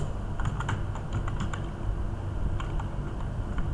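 Quick bursts of clicky keystrokes on a computer keyboard, typed in short irregular runs over a steady background hum.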